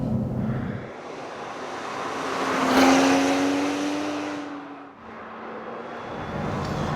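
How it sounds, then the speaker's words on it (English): Volvo V60 Polestar with a tweaked 350-horsepower turbo engine, heard as a smooth engine drone that swells to a loud rising pass-by near the middle, then fades and returns as a steady hum. "You get 350 horsepower from a tweaked turbo."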